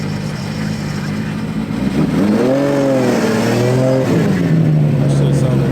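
BMW cars revving at a car meet, engine note swelling and wavering in a couple of throttle blips before settling into a steady idle, fairly close amid crowd noise with people talking over it.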